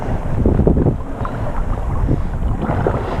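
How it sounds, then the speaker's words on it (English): Strong wind buffets the microphone in loud, gusty rumbles outdoors at a campground in Kettle Creek State Park, with some water sounds mixed in. "it's windy as all get out right now"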